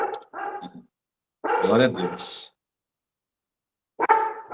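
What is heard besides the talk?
small dog barking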